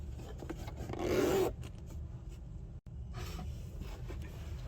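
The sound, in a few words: opening zipper on fabric pouch pocket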